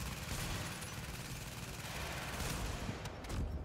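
Sustained automatic gunfire from a deployed turret in The Division, a dense continuous volley of rapid shots with heavy low rumble running throughout, loud and close, with no talk.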